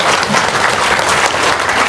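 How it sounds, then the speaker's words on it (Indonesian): Loud, dense applause from an audience, a steady unbroken wash of many hands clapping close up with no talk over it. "Tepuk tangan dong."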